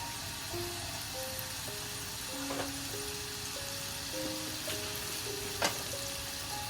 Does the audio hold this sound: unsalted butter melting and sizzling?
yes